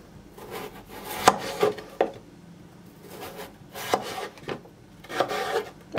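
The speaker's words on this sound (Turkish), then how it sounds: "Patatesi kabuğunu soyduktan sonra küçük küçük küp halinde doğrayacağım." A knife chops peeled potato into small cubes on a wooden board, giving irregular sharp knocks in short bursts, close and clear with no talk.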